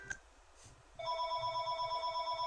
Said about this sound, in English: Alright, the phone is ringing.